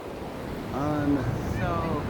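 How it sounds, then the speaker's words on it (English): Ocean waves wash on the shore on a bright day, a steady broad rush with wind buffeting the microphone, while voices talk over it in the foreground. "Look at that beautiful ocean."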